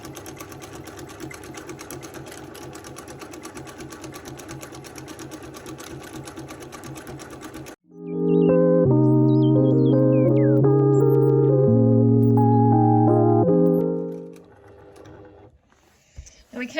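Sewing machine running steadily for several seconds during free-motion quilting of circles on a quilt block, a loud continuous mechanical whir that starts abruptly and then fades out, following a stretch of lighter rattling and handling.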